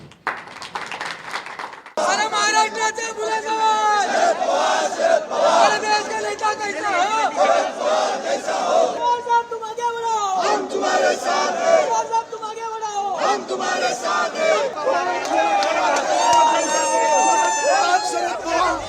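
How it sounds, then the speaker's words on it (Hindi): NCP supporters at a political gathering in Maharashtra cheer and clap as Sharad Pawar withdraws his resignation as party president, a dense crowd roar with shouting voices layered over steady applause, sustained throughout. "मराठा क्षत्रप के ऐलान के साथ ही तालियां गूंज उठी"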